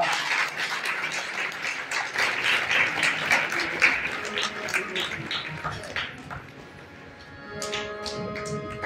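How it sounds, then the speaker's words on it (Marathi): Audience applause during a Shiva-Parvati wedding invitation gathering, a sustained crowd clapping that thins and fades toward the end, with faint voices mixed in. "टाळ्या वाजवत जा, म्हणजे आपलाही नंबर आला की आम्हालाही टाळ्या वाजवता येईल."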